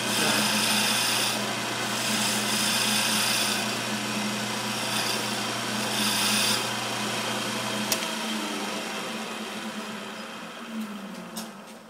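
Steady mechanical hum of a wood lathe spinning a wooden chair spindle, with sandpaper rubbing in broad bursts before the motor cuts off and the whir winds down.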